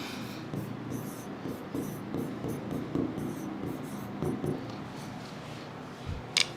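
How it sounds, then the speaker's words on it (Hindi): A marker or pen writes on a board during a lesson on call options, with soft rubbing strokes and occasional taps, close and steady, ending in a sharp click, with no speech. "तो मैं यहां पे एक चीज लिख देता हूं"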